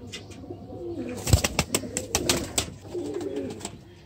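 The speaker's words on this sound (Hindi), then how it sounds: "ये बड़ा ब्रीडर कबूतर है" A large breeder pigeon coos close by, soft throaty coos repeating over several seconds, mixed with sharp clicks and rustling of handling and wings.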